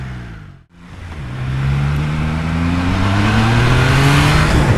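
A Triumph Trident 660 triple-cylinder motorcycle engine accelerating, revs climbing steadily after a brief dip, the smooth throaty note loud and close with no talk over it.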